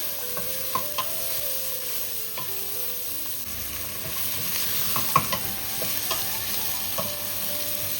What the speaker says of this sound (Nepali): र प्याजलाई नरम हुन्जेल गरी भुट्नु पर्ने हुन्छ।